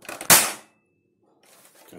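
A single sharp spring-powered shot from an airsoft L96 sniper rifle, loud and close, cracks out after a faint bolt handling click, then dies away to near silence before faint rustling handling noise.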